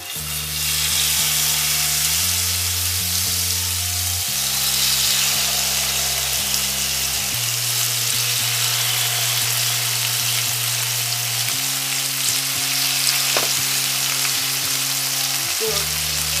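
Chicken satay skewers fry in about two tablespoons of hot cooking oil in a pan, a loud continuous sizzle with crackling that holds steady throughout, accompanied by a low background hum that shifts in pitch.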